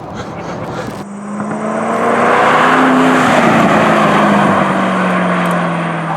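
A Ford GT's engine pulls hard at half throttle, its loud rising drone building and sustaining as the car accelerates, heard from inside the cabin.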